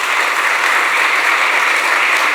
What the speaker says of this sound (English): can we have a round of applause for that?